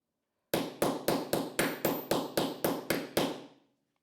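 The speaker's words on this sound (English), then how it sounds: "place the button cutter on top, and I need a hammer, and I'm going to hit it really hard" A hammer strikes a metal button cutter set on a wooden board: about ten sharp, ringing taps in a fast, even rhythm, each with a short metallic decay, close and loud, with no voices.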